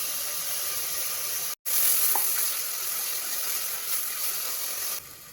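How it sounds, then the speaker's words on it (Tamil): Steady, dense sizzling of ginger-garlic paste frying in a hot pan for chicken biryani, continuous and close, with a brief cut partway through and slightly quieter at the end. "இஞ்சி பூடு பேஸ்ட் போட்டு நல்லா வதங்கிருச்சு"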